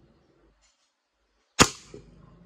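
A WE M4 CQB Version 3 gas blowback airsoft rifle fires a single sharp shot nearby after near silence, with a short trailing rattle.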